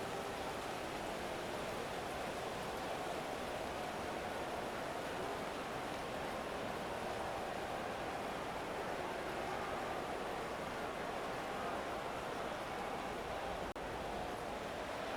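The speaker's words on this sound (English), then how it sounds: "The rain, maybe not quite as heavy as it was earlier, but still coming down pretty good" Steady, dense hiss of heavy rain falls continuously throughout a Madden 26 video game football match between the Buffalo Bills and Pittsburgh Steelers, with no voices or crowd standing out.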